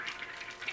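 A Goldsnare SGS-1 mini gold dredge pump runs steadily after being switched on, pushing water through a sluice box with a constant wet, splashing rush and a faint dripping texture, moderately close and without talk.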